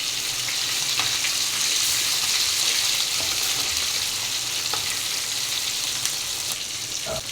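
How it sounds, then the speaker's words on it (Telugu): Chicken pieces frying in hot oil for a chicken fry make a steady, loud, dense sizzle that runs without a break, with a few faint crackles and pops rising above it and no talk. "చూడండి, ఇది కూడా వేగిపోయింది."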